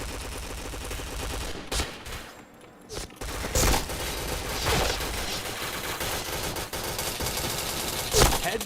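Rapid gunfire from the shooter game Point Blank plays as dense, loud bursts and bursts of automatic fire, nearly continuous with brief lulls and sharp individual shots, while a voice speaks over the action.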